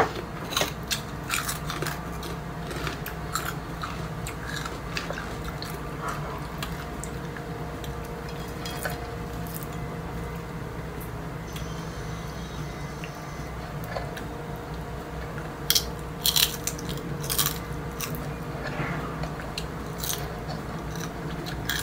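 Crunchy chicharon being bitten and chewed up close, a steady run of crisp cracks and crunches over a constant low background hum, with no talking.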